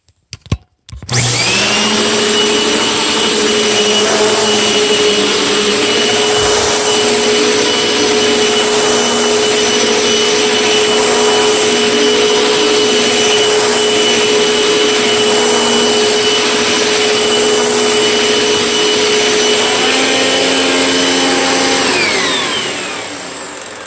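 An old Panasonic Performance Plus Platinum upright vacuum cleaner runs steadily with a loud, close motor whine and airy rush, starting after a short click and winding down at the end, no talk.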